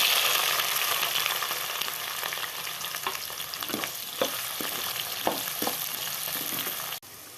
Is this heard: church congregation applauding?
no